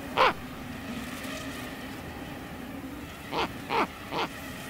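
Owl family calls on open Arctic tundra in late July: one short call near the start, then three more in a rough row toward the end, fairly close against a steady wind hum with no talk.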